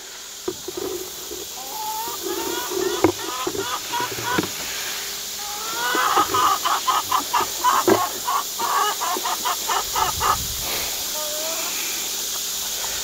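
Free-range hens cluck and chatter in a farmyard, a run of rhythmic clucks building in the middle, with a steady hiss in the background and a few brief calls near and far.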